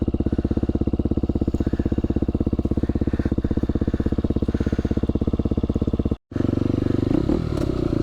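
KTM dirt bike engine idling on a soaked single-track trail in Luzern, Michigan, a loud, close, rapid and even thumping putter that cuts out briefly, then resumes with rougher clatter.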